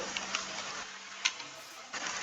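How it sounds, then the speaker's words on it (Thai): Rain falls in the Minecraft video game as a faint, steady, hissing patter with a few soft ticks, continuous and quiet throughout with no talk. "เออบ้านผมฝนตก"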